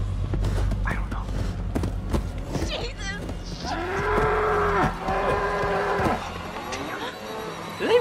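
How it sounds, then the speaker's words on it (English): Creatures in the horror video game Until Dawn let out long, drawn-out cow-like moans over a low rumble, and a startled voice exclaims briefly before them. "Did they really make that sound? They sound like, you know, cows."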